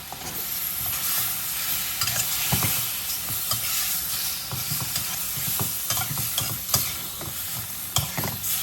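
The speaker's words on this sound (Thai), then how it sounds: "แต่ตอนนี้ก็ผัดให้เห็ดหูหนูสุกนะฮะ" Chicken giblets being stir-fried with ginger and wood ear mushrooms in a pan: constant bright sizzling, with frequent close clacks and scrapes of the spatula as the food is tossed.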